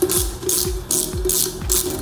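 A ratchet tightens the bolts on a Delkevic exhaust fitted to a Honda VFR motorcycle, making repeated quick clicking strokes in an even rhythm, close and clear.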